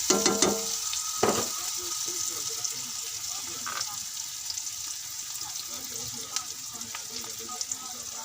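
Onions frying in a pan for an egg curry give a bright, continuous sizzle close up, with scattered clinks of a spatula against the pan throughout.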